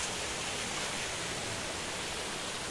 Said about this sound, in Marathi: पहा कंटिन्यू पहा, धबधबा किती वाहत आहे, एकदम सुंदर धबधबा आहे सोमनाथचा